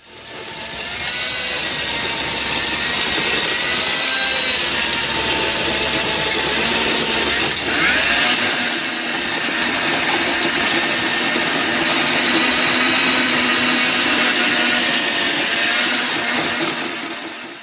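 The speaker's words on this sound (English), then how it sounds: "I made really good progress in a short time tilling my garden" A Sun Joe TJ603E 16-inch 12-amp electric tiller cultivator churns garden soil and weeds, its motor letting out a loud, steady whine that wavers slightly in pitch as it digs. It runs close and continuously.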